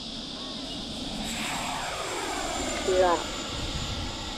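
FMS 70mm Yak RC model jet throttling up to full power for takeoff, a steady whooshing turbine-like roar at moderate distance, rising slightly, with a person speaking briefly over it.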